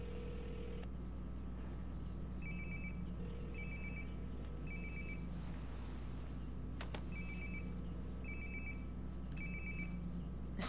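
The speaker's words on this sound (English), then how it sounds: "Sounds like my phone is definitely nearby." In the video game Life is Strange, a nearby phone rings in repeated bursts of electronic trills over a steady low ambient hum.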